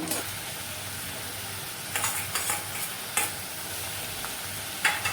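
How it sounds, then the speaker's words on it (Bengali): Chopped onion and grated garlic fry in oil in a pan for a Bengali kakrol posto dish, giving a steady close sizzle broken by several sharp stirring scrapes. "পেঁয়াজ রসুনটা যখন এই রকম লাল লাল করে ভাজা হয়ে যাবে"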